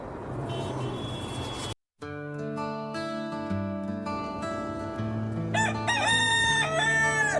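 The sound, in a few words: chicken crowing in a cartoon song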